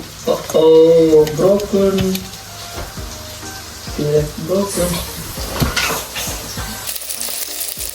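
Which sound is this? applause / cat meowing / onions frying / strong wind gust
onions frying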